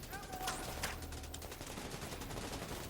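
Gunfire from enemies in The Division 2, a dense, continuous stream of shots and impacts with a few brief chirps, steady throughout, with no talking.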